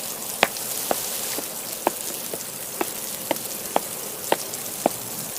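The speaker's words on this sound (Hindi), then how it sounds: "बारिश अब थमती जा रही थी" Rain falls steadily in a dark forest at night, a soft continuous patter with individual heavy drops striking leaves or surfaces at irregular intervals, close by and alone with no voices.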